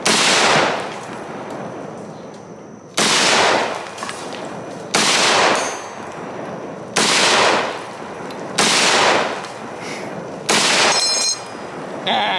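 M1 Garand rifle fired at an outdoor shooting range: six loud, sharp single shots spaced about two seconds apart, each with a ringing tail that decays before the next.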